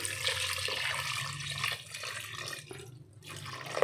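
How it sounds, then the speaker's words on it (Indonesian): Water pouring into a pressure cooker over cassava and ground spices, a continuous splashing rush close by that thins briefly near the end. "Kemudian masukkan air sampai si singkongnya ini tenggelam."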